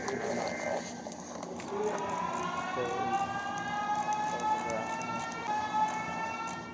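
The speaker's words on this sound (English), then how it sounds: "I hear like a police siren or something" A police siren wails, rising and falling continuously in the distance, with a low rumble of background noise underneath.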